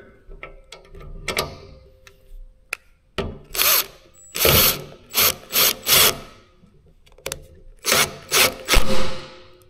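A ratcheting crimp tool clamps a lug onto a battery cable in a horse-trailer battery upgrade, producing close, loud bursts of rapid clicking ratchet strokes separated by short pauses.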